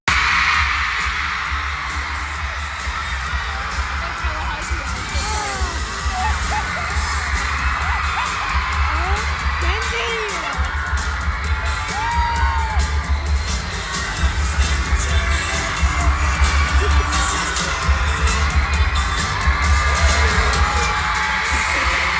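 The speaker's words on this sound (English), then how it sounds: "The screaming in that building, you guys." A packed arena crowd at a Surprise Party Tour concert screams loudly and without a break, while a deep, pulsing bass beat thumps steadily underneath.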